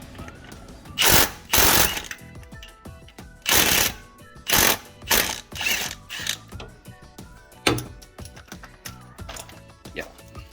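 A ratchet works a single cover bolt loose on a Honda Acty engine: several loud bursts of rapid clicking, close by, separated by short pauses, then softer scattered clicks and handling noises.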